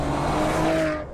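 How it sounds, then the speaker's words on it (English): A Maserati engine and exhaust rising under pressure on the gas pedal, a loud, close, sustained tonal roar climbing steadily in pitch before easing off at the end. "your exhaust system is able to inform you that you are driving a Maserati"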